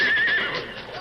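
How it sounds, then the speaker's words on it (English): Horses neigh and whinny loudly in a radio drama about wagons crossing a river, a shrill high cry sliding over a fast current's rush with faint hoof clatter beneath, lasting about a second. "The horses will pull you into the water."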